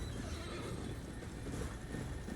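A horse in Elden Ring whinnies and neighs over steady clip-clopping hooves, loud and close in the capital outskirts, with no talk.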